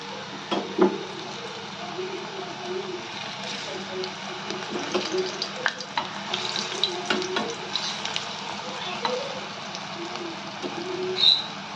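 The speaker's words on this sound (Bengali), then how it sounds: "এবার আমরা যেটা মাছ বানিয়ে রেখেছি সেগুলো ছেড়ে দিচ্ছি। ভালো করে আমরা ভেজে নেব।" Raw banana pieces shaped like fish fry in hot oil with a continuous sizzle, with scattered clicks and scrapes of handling in the pan and a voice talking over it.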